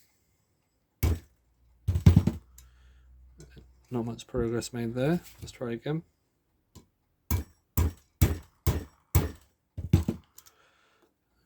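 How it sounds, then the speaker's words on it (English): Sharp metallic hammer strikes on a clock pivot against an anvil ring out, a few early and then a rapid series of about eight evenly spaced blows, with someone speaking briefly between. "hammer it down."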